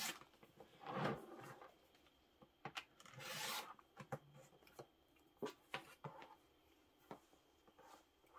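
Scissors snip and rasp through fabric while cutting pieces for a Kimberbell Sweet as Pie bench pillow, giving a string of short, close scraping bursts with brief quiet gaps between them.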